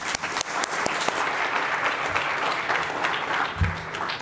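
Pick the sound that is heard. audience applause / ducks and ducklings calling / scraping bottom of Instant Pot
audience applause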